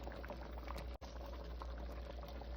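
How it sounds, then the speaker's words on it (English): Chicken gnocchi soup boiling in a pot, a constant close bubbling burble with a brief dropout partway through. "Here I have it boiling and I'm just letting it reduce"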